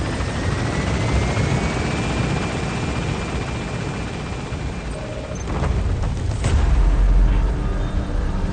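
An extraction helicopter in Metal Gear Solid V climbs away from a hot zone with a loud, steady rotor roar. A deep boom-like swell rises near the end, and no one talks.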